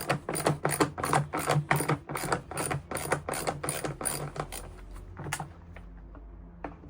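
Torx T20 screws on a 2014 Renault Clio air filter housing being undone, a fast run of sharp ratcheting clicks for about five seconds, then a few scattered clicks and quiet handling noise, close up with no talking.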